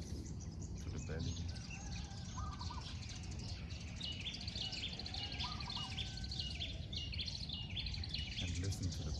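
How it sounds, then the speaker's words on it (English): Small birds chirp and trill outdoors in a steady, fairly distant chorus over a soft continuous background hum. "And listen to the birds"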